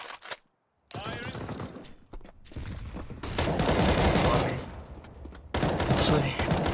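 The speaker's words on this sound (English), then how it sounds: "Firing." Bursts of rapid gunfire in Counter-Strike: Global Offensive on the Cache map, loud and close, broken by short gaps, with a brief voice at the start.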